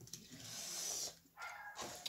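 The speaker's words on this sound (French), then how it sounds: "vous entendez ma chienne, mais là, je pense que quelqu'un est passé à côté" A pet dog indoors gives a few short, moderately distant barks and yips in quick succession, separated by brief pauses, with no talking over them.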